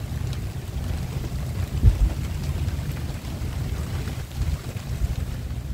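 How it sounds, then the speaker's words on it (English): Rain pours onto a sailboat at anchor in a bay near La Paz, a steady hiss and patter with low rumbling wind, loud and continuous with a few heavier gusts. "And then it just starts raining."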